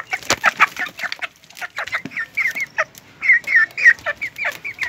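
Two-month-old backyard chickens cluck steadily nearby, a busy overlapping run of short clucks and calls with no talk over them.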